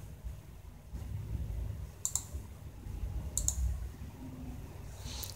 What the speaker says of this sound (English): just click on done